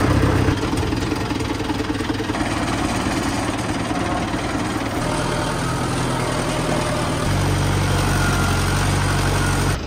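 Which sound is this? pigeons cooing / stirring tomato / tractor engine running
tractor engine running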